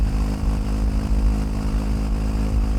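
A Royal Enfield Himalayan 450 motorcycle, loaded with gear, cruises at about 80 mph on a freeway. It gives a steady, loud engine drone mixed with rushing wind noise, with no talk.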